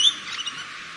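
A small bird gives a brief high chirp outdoors, close and fairly clear, followed by soft faint twittering over a quiet background.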